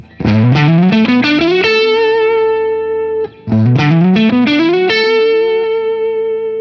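Ibanez Jem 70VSFG electric guitar with DiMarzio Evolution humbuckers, volume rolled back toward halfway, playing rising phrases into long sustained notes, mildly driven with a softened, rounded edge, in two passes separated by a brief pause.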